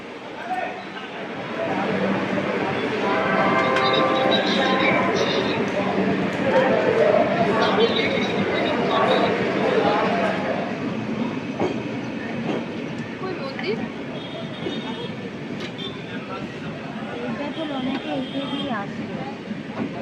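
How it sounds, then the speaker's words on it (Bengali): A long-distance Kolkata–Jammu Tawi express pulls away with a steady rumble and rhythmic wheel clatter on the rails. Voices talk over the noise throughout. "ট্রেন ছেড়ে দিয়েছে জম্বুতাই, একদম রাইট টাইমে ছাড়লো।"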